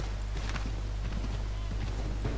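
A horse's hooves clop in a quick, even gallop rhythm in Assassin's Creed 3, close and steady over a low constant hum.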